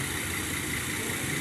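A tractor engine idles steadily near a stuck trolley carrying a solar panel, giving a continuous, even mechanical rumble with no voices over it.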